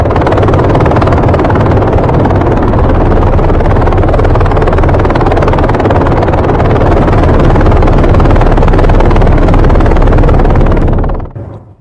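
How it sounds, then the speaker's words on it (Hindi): A helicopter in news footage roars loud and close, its steady broadband rotor and engine noise continuing unbroken for about eleven seconds before cutting off abruptly. "मादुरो को देखिए, हेलीकॉप्टर से उतारा गया"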